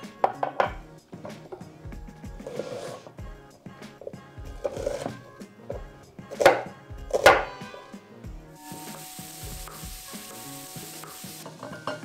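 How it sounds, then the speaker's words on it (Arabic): A knife chops vegetables on a board for courgette soup, with a quick run of repeated cuts, close and fairly quiet, and a few louder knocks partway through. "غادي غير نقيهم ونقطعهم"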